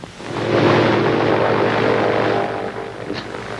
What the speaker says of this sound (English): But maybe this time it is an official plane.